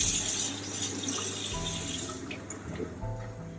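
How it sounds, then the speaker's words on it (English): Water runs steadily from a tap into potato flour being mixed for a beef and Guinness stew, a soft continuous splashing heard alone at close range. "So just a little bit of water added to it."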